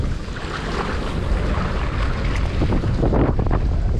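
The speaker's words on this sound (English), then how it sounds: "The wind's blowing straight at me" Steady wind rushing over open water and buffeting the microphone while bass fishing from a boat during a snow storm, a loud, continuous roar with faint lapping underneath.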